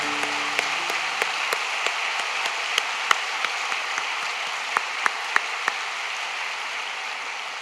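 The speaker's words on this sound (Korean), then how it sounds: "박수 한번 쳐주십시오." A church congregation at a Friday night prayer meeting claps together, a broad, steady patter of many hands heard at some distance, with a few sharper individual claps standing out.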